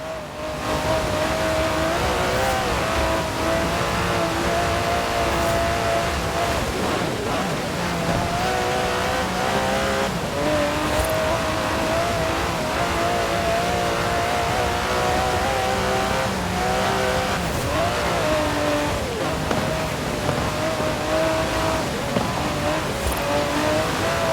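Aston Martin DB11 engine in Forza Horizon 4, a loud steady drone with rising and falling revs as the car drives continuously, close and unbroken throughout.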